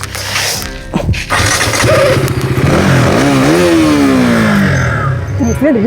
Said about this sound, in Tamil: தூக்கி பைக் ஸ்டார்ட் பண்ணிடுறேன்.